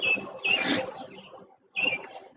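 Birds at a backyard seed feeder give a few short, thin chirps, close and fairly soft, in separate bursts with brief quiet between.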